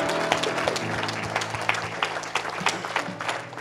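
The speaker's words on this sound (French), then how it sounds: "Est-ce qu'on peut acclamer encore pour Jésus ici?" A church congregation applauds for Jesus, a loud, steady burst of many hands clapping throughout, with a few scattered voices underneath and no pause.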